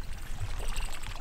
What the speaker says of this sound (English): Did you hear that nice little chirpy kind of plop sound? That's really a very good sounding buzzbait.